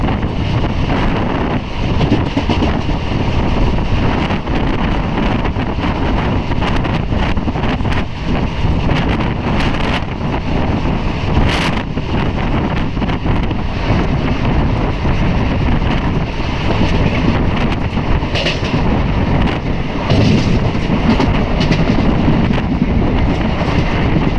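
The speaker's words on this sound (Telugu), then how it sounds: "train Gadwal railway station gate enter అవుతుంది" A train rumbles along continuously and loudly, with clattering wheels and rushing wind noise throughout, as it enters Gadwal railway station in Telangana, India.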